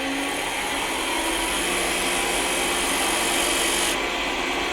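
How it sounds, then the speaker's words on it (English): A wood lathe spins a wooden snowman while a piece is pressed against it to friction-burn a band, giving a continuous even rubbing hiss with a steady motor hum, close and unchanging throughout, with no talk. "I'm just going to start up the lathe and I'm just going to hold this against it."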